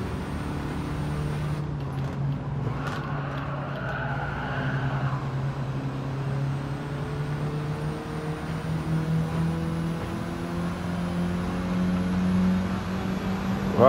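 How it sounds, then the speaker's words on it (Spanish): Another car accelerating in a Mini Cooper Clubman Cup racing video game, a rising engine whine that climbs steadily in pitch over a continuous low motor hum, fairly loud and unbroken, with no voices. "cogió mucha velocidad de repente ese otro carro"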